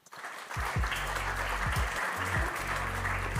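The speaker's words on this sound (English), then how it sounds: "I would like to ask Benedetta BERTI on stage and you for a big welcome applause" An audience at an economics conference on AI, geopolitics and energy gives welcome applause to a speaker coming on stage. The clapping swells quickly and holds steady, mixed with low, swelling music.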